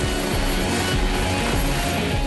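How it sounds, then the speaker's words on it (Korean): A medical air ambulance helicopter lifts off with a loud, steady turbine roar and a constant rotor thrum that fill the scene from start to finish. "헬기 이륙과 동시에 응급처치에 들어갔다."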